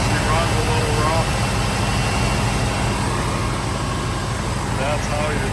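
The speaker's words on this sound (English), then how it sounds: "See, she runs a little rough." A 1973 Ford F pickup with a Ranger XLT trim idles roughly, its old engine churning in a steady, uneven low rumble that stays close and constant throughout with no one talking.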